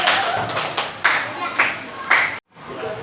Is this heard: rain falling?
no